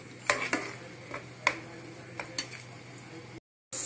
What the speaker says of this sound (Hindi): अब ये तेल गरम हो गया है दोस्तों, अब हम इसमें ये जो हमने पीसा है मसाला वो मसाला डाल देंगे